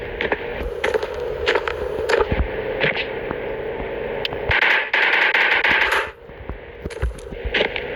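Gunfire in the mobile bike riding game Indian Bike Riding 3D: a steady run of sharp shots and clattering bursts over a constant game-engine drone, with a denser volley near the middle.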